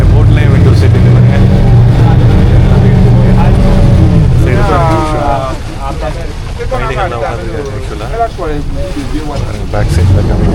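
An RTA water taxi on Dubai Creek, its engine a loud, steady low drone close by, with voices talking over it in the second half.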